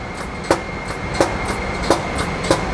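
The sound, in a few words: pump running initial air cycle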